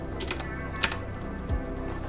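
Computer keyboard typing, a few quick light key clicks, close and fairly quiet, with no talking.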